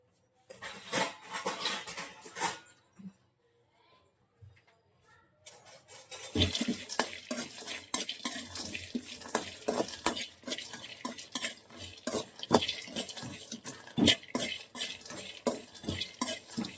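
Ingredients for stuffed brinjal curry are dry roasted in a pan with no oil. A spoon scrapes and clatters against the metal in quick repeated strokes, with a brief quiet gap near the start and a faint sizzle underneath.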